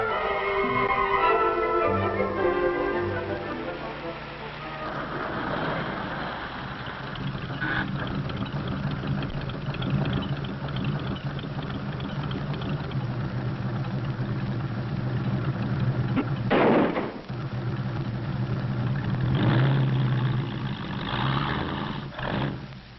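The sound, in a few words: old jalopy car engine running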